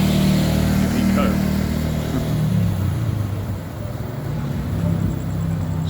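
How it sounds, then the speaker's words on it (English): A nippy scooter engine drones and revs in a GTA-style video game, a loud close mid-pitched hum that dips and rises in pitch, heard under steady talking. "So I'm on one of these scooters, they're pretty nippy"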